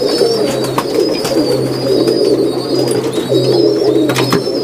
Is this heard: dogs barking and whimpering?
no